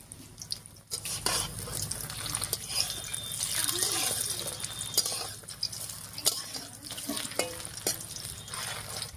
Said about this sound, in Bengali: ডিমের এই পকোড়াগুলো ভাজার সময় উনুনের আঁচটা খুব বেশি বাড়ানো যাবে না